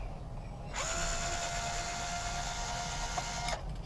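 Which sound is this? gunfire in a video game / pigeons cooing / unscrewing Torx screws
unscrewing Torx screws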